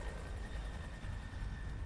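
An aircraft drones past in Rise of the Tomb Raider. A continuous, even engine roar with a faint rhythmic flutter fills the short stretch without pause, and no one speaks.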